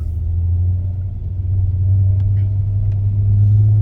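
A Commodore car engine drones steadily from inside the cabin while driving, a continuous low rumble holding an even level throughout.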